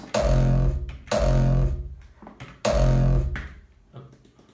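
A dry kick drum sample in FL Studio plays three deep, booming hits in a slow, uneven rhythm, with heavy low end and no effects. The hits are close and loud with no talk.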